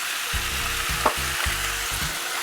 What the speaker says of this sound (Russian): В сковородку возвращаем картофель. Все это дело перемешиваем.